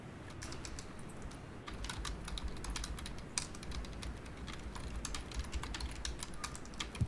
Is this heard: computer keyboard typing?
yes